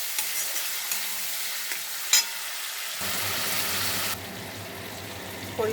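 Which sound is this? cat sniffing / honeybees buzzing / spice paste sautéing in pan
spice paste sautéing in pan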